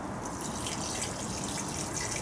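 Water from a jug is poured into a winter stew in a Dutch oven, giving a continuous close, soft splashing trickle that stays even from start to end.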